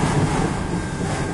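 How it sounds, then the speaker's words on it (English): A southbound CN 271 freight train hauling car carriers rolls past in Port Huron, Michigan, making a steady, close, low rumble with faint wind noise and no voices. "This is a southbound on Speedway train."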